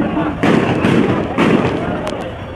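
Several heavy booming shots of tear gas shells and rubber bullets go off in quick, uneven succession during a student-police clash in Sylhet, loud and close, with a voice talking underneath.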